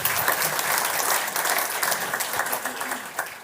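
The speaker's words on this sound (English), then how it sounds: "An applause for Erik." An audience at a product presentation breaks into steady, dense applause that carries on evenly for a few seconds.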